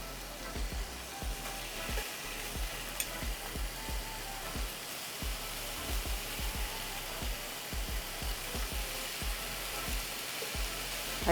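Bacon strips sizzle in a Tefal nonstick pan, making a steady, fairly quiet hiss broken by frequent small crackles and pops, with no one talking.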